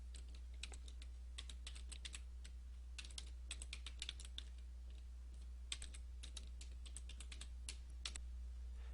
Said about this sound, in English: The text box is all ready for me to start typing.